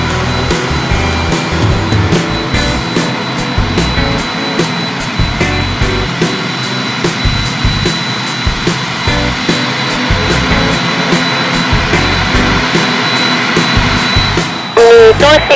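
An Omni Air International Boeing 767-300ER airliner's jet engines drone loudly and continuously on the runway at Subang Skypark, a broad steady roar that holds throughout with a brief louder thump near the end.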